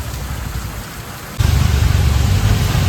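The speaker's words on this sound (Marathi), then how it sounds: "जोरदार एकदम धुवाधार पाऊस चालू आहे" Heavy rain pouring down in a dense, steady roar that grows noticeably louder about halfway through, with no voices.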